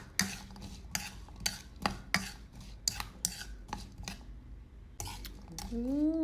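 A Thai mak mao salad with chili is tossed in a bowl. Soft, fairly regular clinks and taps of a utensil against the bowl are heard up close, and a voice joins right at the end.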